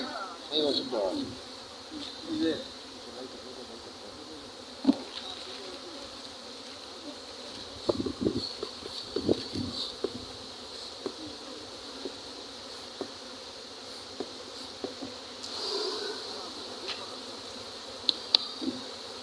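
Honey bees buzz steadily around rows of wooden hive boxes at an outdoor apiary, a faint continuous drone with occasional louder passes near the microphone and a few soft knocks and rustles.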